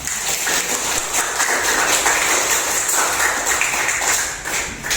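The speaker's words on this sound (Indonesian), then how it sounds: "tepuk tangan dulu untuk kita semua" Classroom of students clapping together, a dense steady patter of many hands filling the room at full loudness for several seconds before easing off at the end.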